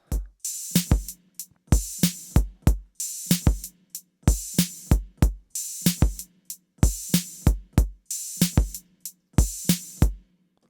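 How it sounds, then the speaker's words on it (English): A repeating swung drum groove from a song with kick, snare and crisp hi-hats, closed ticks punctuated by longer open hi-hat washes, steady and loud. "All of the drums on their own sound like this."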